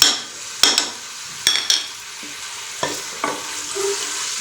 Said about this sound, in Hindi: तो अभी हम सबसे पहले इसमें प्याज अपने ऐड करेंगे। प्याज के साथ साथ ही हमने इसमें अपना लहसुन भी ऐड करना है।